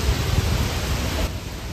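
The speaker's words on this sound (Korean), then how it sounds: "이게 지금 빗소리예요" Heavy rain pours down in Tainan, Taiwan, a dense, steady hiss of falling water that fills the space with no clear breaks or other sounds.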